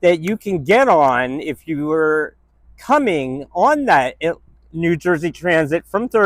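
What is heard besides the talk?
No distinct noise like a dog, phone or traffic.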